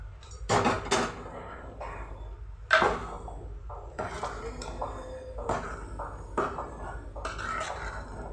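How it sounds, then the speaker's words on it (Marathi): Cooked mutton is tipped into a pot of masala for a spicy mutton rassa, giving a few clattering knocks and scrapes of a spoon against the metal pot, close by and fairly quiet, with gentle kitchen rustle in between. "मटण घालून घेऊया."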